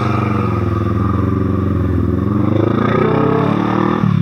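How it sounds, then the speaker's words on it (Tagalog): A Kawasaki J650 naked big bike drones steadily at close range while riding, its engine loud and continuous with a slight rise in pitch near the end. "aggressive ride na tayo. Naked bike na gamit natin."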